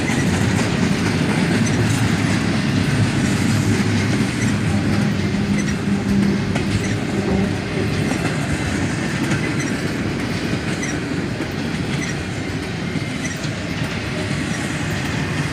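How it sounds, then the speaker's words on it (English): A southbound intermodal freight train rolls steadily past at close range, a continuous loud rumble of wheels with rhythmic clickety-clack from the railcars and no voices. "This southbound intermodal train was a nice surprise."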